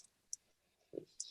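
Typing on a new computer keyboard, a few sparse, faint clicks and taps spread unevenly across a short quiet moment, with one duller thump among them.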